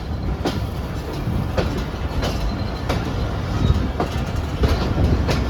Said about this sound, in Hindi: अब लूप लाइन से फिर मेल लाइन पे जा रही है हमारी ट्रेन।